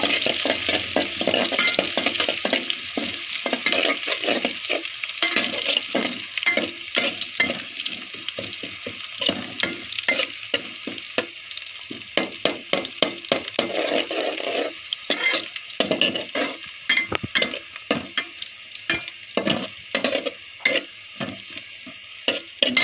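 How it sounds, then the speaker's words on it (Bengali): Onions and garlic fry in a pan and are stirred, irregular scraping and clacking strokes breaking through a continuous hissing sizzle, close and fairly loud. "তো এখন আম্মু পেঁয়াজ আর রসুনগুলোকে নাড়িয়ে চালিয়ে নিচ্ছে, লাল করে নিব"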